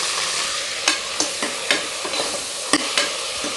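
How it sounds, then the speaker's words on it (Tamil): Onions, green chillies and small tomatoes sizzle steadily in a pan, with a series of sharp scraping stirs breaking through the frying hiss at irregular intervals, close and alone. "எல்லாத்தையும் நல்லா வதக்கிப்போம்."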